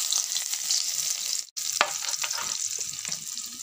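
Oil sizzles and crackles steadily in a pan on a home stove while food fries, close and fairly soft, broken by one brief silent gap.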